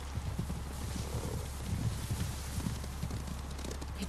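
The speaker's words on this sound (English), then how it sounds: "Horses, they're coming for us." Soft, rapid hoofbeats of horses running in the video game Ghost of Tsushima, under a steady windy rumble, the clip-clop pattern continuous and moderately close, with no talking.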